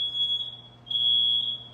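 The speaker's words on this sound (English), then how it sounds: "the alarm is off again" A household smoke alarm set off during cooking emits shrill, high-pitched beeps, one sustained tone, a short gap, then another, over a faint low hum with no talk.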